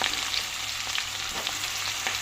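Onions and green chillies frying in a pan: a continuous close sizzle with crackling pops and stirring scrapes, with no talking.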